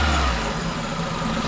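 A Renault Megane 2 with a 1.6 16v petrol engine revs on a quick throttle blip, a near, loud, rough mechanical roar that holds steady for a moment before easing.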